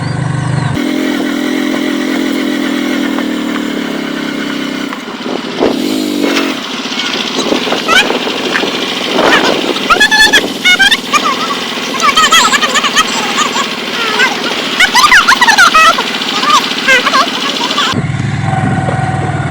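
A motorcycle engine revs and strains as it rolls over a rough, worsening road toward Turrialba Volcano, with idling between bursts and someone speaking briefly over it.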